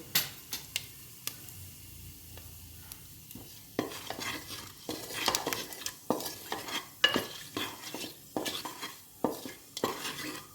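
Whole cloves, cardamom pods, a dried red chilli and cumin seeds are stirred in hot oil for mutton curry. A spoon scrapes and clinks against the pan in quick, uneven strokes over a soft sizzle, getting louder and busier.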